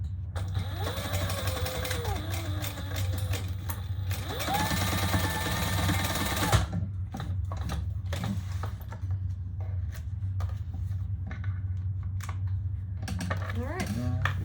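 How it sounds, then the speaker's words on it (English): A sewing machine bastes a purple leather waist pack in two bursts of fast mechanical stitching, each a couple of seconds long, separated and followed by quieter handling noises in a room. "And let's baste this side."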